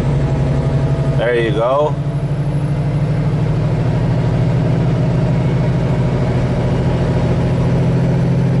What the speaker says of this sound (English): it's not gonna make it, so I'm gonna manually downshift it